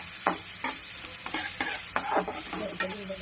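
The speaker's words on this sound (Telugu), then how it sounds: "ఆనియన్ వేసుకోవాలి, కొంచెం ఫ్రై చేసుకోవాలండి" Onions frying in a pan, stirred in regular scrapes about every half second over a steady close sizzle, with no voices.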